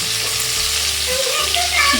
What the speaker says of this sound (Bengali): উচ্ছেগুলোকে হচ্ছে ভেজে নেবো আমি